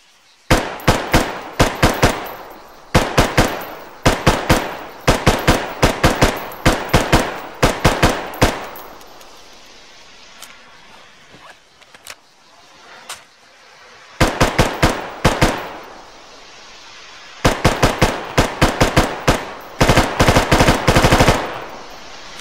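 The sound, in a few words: full-auto rifle fire in video game Arma RHS mod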